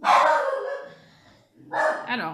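A panicking dog lets out two loud, close barks, a long drawn-out one followed after a pause by a shorter double yelp, with a voice briefly heard.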